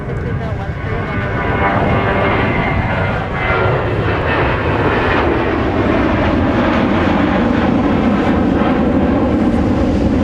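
An airliner takes off at Minneapolis airport into a headwind, its jet roar rising and sweeping past in a loud, broad rush, with a voice talking over the sound.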